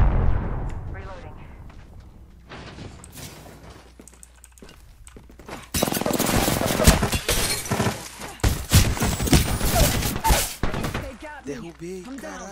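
Gunfire and impacts ring out during an Apex Legends match, starting sparse and quiet, then erupting into dense, loud bursts of shots with sharp cracks and breaking sounds, while a voice talks over parts of it.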